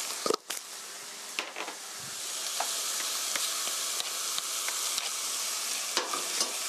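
Tomato meat sauce with brown sugar stir-fried in a pan for an omelette, a steady close sizzle with repeated scraping strokes of the utensil, no talking.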